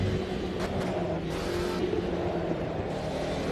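Mercedes race car on the Nordschleife in Automobilista 2, its engine a steady loud drone with broad road and wind noise and faint shifts in pitch, continuous without a pause.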